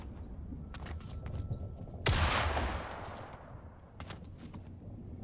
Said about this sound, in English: there are some gunshots being fired in the background